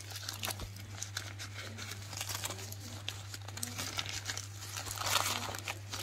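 Crinkly wrapping is peeled off oven-baked potatoes, with a soft, close rustle and crumple that swells briefly near the end over a steady low hum.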